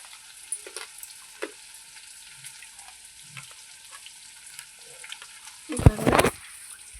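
Crushed ingredients fry quietly in a pan, a faint steady sizzle broken by a few soft taps, then a louder burst of stirring and spatula clatter near the end.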